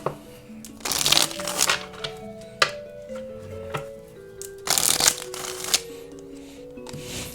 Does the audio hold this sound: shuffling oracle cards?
yes